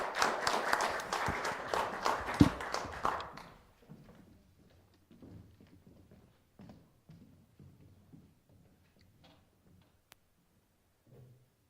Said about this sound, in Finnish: annetaanpa Juusolle aplodit